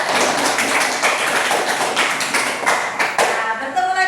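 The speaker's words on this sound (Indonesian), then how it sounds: "Tepuk tangan dulu kita." A class of students clapping hands together, a dense, loud burst of many overlapping claps lasting a few seconds before trailing off, with voices mixed in.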